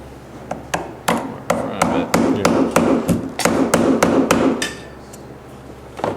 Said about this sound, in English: I'm going to take the thinner putty knife and see if we can get it in there behind it